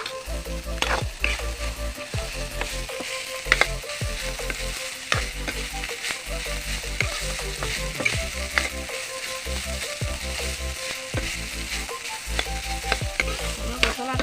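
Spices and raw chickpeas fry in a pan for an Assamese dish, a steady close sizzle broken by repeated scraping stir strokes, with no talking.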